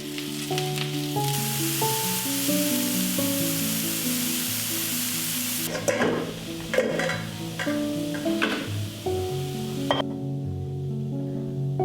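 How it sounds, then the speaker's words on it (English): Orange chanterelle mushrooms sauté in butter in a farmhouse kitchen, giving a steady, close sizzle and crackle throughout, with occasional stirring scrapes and soft clinks partway through, while quiet music plays underneath. "We like to saute them in butter,"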